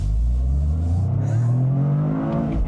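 A 2025 Toyota GR Corolla hot hatch accelerates hard, its engine droning loud and close as the revs climb steadily through the gear, with a whirring edge and no talk over it.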